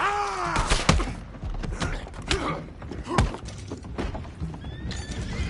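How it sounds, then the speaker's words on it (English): Horses whinny loudly in Red Dead Redemption 2, with a drawn-out neigh up front followed by clip-clopping hooves, wooden creaks and mechanical thunks in a busy game scene, no speech. "go find out about those horses down below"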